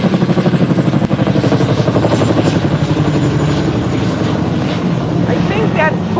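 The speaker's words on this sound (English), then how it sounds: "No, I think that's a police helicopter." A police helicopter passes overhead with a loud, close, throbbing rotor chop that pulses rapidly and evenly and slowly softens, while a voice talks faintly under it near the end.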